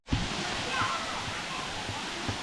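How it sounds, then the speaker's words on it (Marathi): Broad rushing roar of the Gaumukh waterfall in Gujarat, a steady wash of falling water that starts abruptly and holds evenly, with faint voices underneath. "आपल्याला हा छान असा वॉटरफॉल पाहायला मिळतो."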